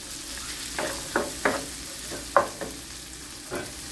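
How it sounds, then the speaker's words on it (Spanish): Bacon and chopped bell peppers in four colours fry in a pan with a steady close sizzle, broken by several soft scrapes and stirs of a utensil. "ya cuando está el tocino bien doradito, le vamos a dejar caer los cuatro chiles morrones de los cuatro colores que picamos"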